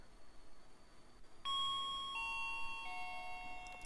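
Elevator arrival chimes from the SkyscraperSim game ring in a few overlapping tonal dings that sustain and stack over a faint background hiss, with no talk.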